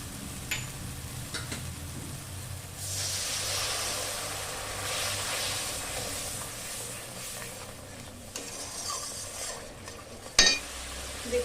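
Water poured into a wok of sizzling spice paste for a katla fish curry, a burst of hissing steam swelling for several seconds amid a steady sizzle, with scraping and a sharp clink of a utensil near the end.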